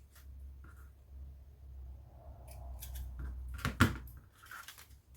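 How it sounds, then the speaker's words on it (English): Scissors snipping frayed bits of ribbon on a handmade mini folio, quiet close cuts with light rustling of paper, building to one sharper distinct snip near the end, no talking. "let me just snip off these frayed"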